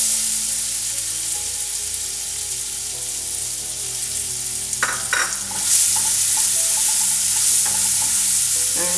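Chopped onion fries in a pan for bread poha, giving a steady close sizzle over a low background hum. Scraping stirs come in near the middle, and the frying grows louder after that.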